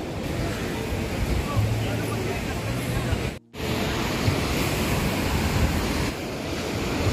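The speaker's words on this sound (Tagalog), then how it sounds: "ganitong malakas ang alon" Strong ocean waves surge and crash in a loud continuous roar with wind buffeting the microphone, briefly cut out midway, recorded close at a deep stretch of sea.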